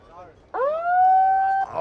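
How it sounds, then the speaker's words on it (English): Contest siren at a surf competition, one loud steady rising-then-level wail sounding for about a second before cutting off, with faint crowd noise and background voices around it. "Siren going just as a massive set."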